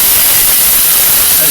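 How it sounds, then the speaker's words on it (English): A K&F Concepts electric blower runs with a loud, steady broadband rushing hiss, close and constant with no breaks. "They are very, very nice for blowing stuff out or vacuuming."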